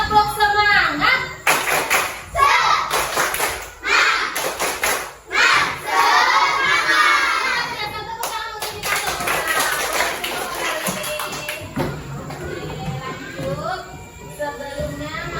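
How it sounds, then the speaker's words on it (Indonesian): Children stand and perform a rhythmic clapping spirit cheer in a classroom, bursts of group claps and shouted chant mixed with voices, loud and close throughout. "Ibu mau kalian tepuk semangat."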